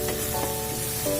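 Vegetables dropped into a hot pan for ginataang hipon, shrimp in coconut milk, set off a steady close sizzle with no talking.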